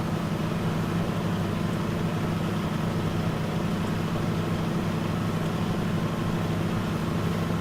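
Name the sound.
truck engine driving in video game Euro Truck Simulator 2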